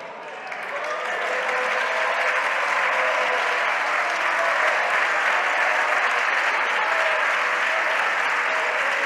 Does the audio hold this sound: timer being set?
no